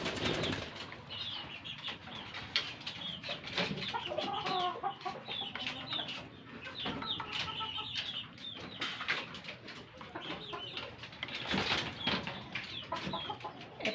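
Boston Black hens in a backyard breeding pen, with clucks and short calls over scattered wing flaps and rustling, fairly close and steady throughout.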